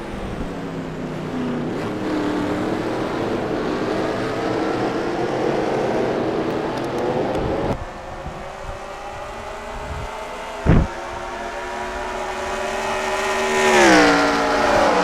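A pack of race cars at Bathurst in a racing video game, engines droning loudly together with shifting pitch, a sharp thump midway, then rising revs as they pull away.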